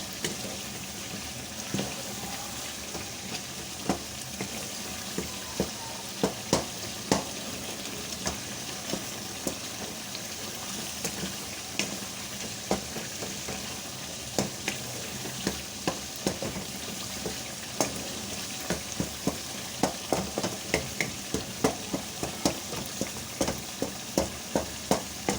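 Tomato is stirred and mashed in a frying pan for a home-cooked chicken dish, giving a steady low sizzle broken by repeated sharp scrapes and taps of the spoon against the pan, which quicken toward the end.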